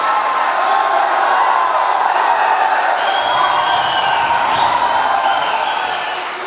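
Audience at a stage event claps and cheers in a steady, loud wash of applause lasting several seconds, with crowd noise throughout and a slight fade at the end.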